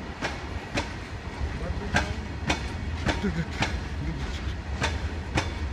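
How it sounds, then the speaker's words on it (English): A goods train rolls steadily past at Bassi with a low rumble and a regular clickety-clack of wheels over rail joints, close and continuous. "train, train."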